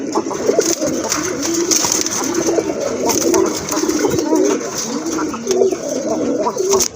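Two male pigeons coo repeatedly in deep, rolling, throaty calls, loud and close, with a faint voice now and then behind them.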